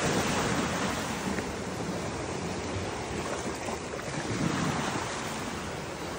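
Waves washing against a rocky lake shore along a trail, a continuous broad wash of water with wind buffeting the microphone and no voices.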